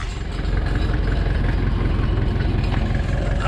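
A 1972 McCormick International B276 tractor engine idles steadily with a low, even thumping pulse, close and loud throughout, with no talking.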